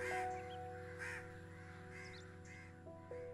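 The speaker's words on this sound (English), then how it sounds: "Those who witnessed the event believed the crows were demonically influenced to attack the young and pure Agnes" Crows caw in a series of harsh, rasping calls, about five spaced bursts over a steady low hum, moderately loud with no talking.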